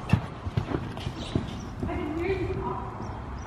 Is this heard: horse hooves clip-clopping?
yes